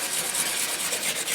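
Steady, close scraping of a vinyl scrub block pressed and rubbed back and forth inside a Stratocaster body pocket, a continuous dry rasp with slight pulsing from the strokes.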